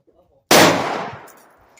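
A single AK rifle shot cracks loudly after a brief quiet, its sharp report decaying into a ringing echo over about a second.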